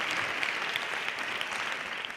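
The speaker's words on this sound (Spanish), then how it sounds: "Un aplauso para Diego Fortea" An audience applauds for a guest on a Spanish humor podcast show, a dense, even roar of clapping that holds steady for a couple of seconds with scattered louder claps.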